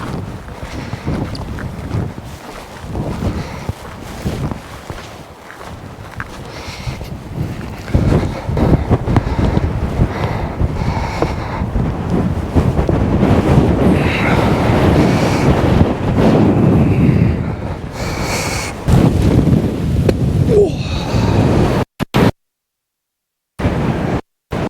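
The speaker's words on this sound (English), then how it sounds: "It is a bit bloody windy up top, I tell you," Strong, cold east-northeast wind on a Dartmoor hilltop at a freezing wild camp, roaring and buffeting the microphone in steady, heavy gusts with no speech, before brief cut-outs near the end.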